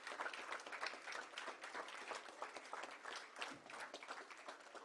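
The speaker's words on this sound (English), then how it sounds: "Let's give them a huge round of applause." Faint, sustained audience applause honoring a state championship team at a ceremony, dense clapping from a crowd heard at a distance.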